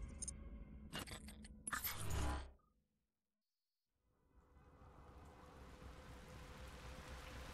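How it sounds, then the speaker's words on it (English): Steady rain hiss in the Transformers: War for Cybertron video game, a dark, stormy setting, following a loud burst of clattering game sounds and a brief silence, then the downpour fading in and continuing. "I really enjoyed this environment, how it's raining, it's thundering, it's such a dark, desolate land"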